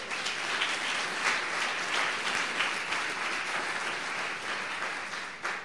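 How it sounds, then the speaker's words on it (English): Steady applause from an audience at an awards ceremony, the 2017 Legends Awards, dense and even clapping throughout without a break, fairly close and loud. "So give him a round of applause."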